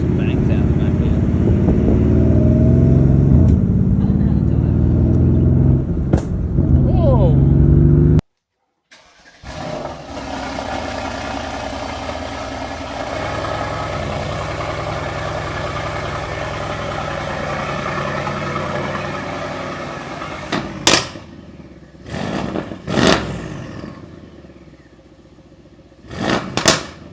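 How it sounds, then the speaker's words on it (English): A Mercedes-AMG GLC63s first runs with a loud, close engine rumble, then cuts out, restarts and idles, with several sharp exhaust pops and bangs near the end; people talk during the engine running. "I hear some pops and bangs out the back here."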